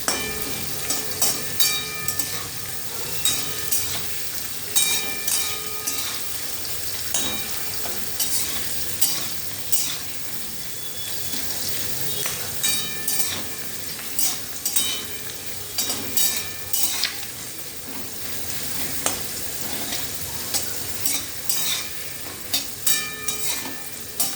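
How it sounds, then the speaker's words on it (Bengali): Round potato slices frying in oil, a steady close sizzle broken by repeated clinks and scrapes of a spatula turning them in the pan, going on without any talking. "আলু ভাজাটা হচ্ছে।"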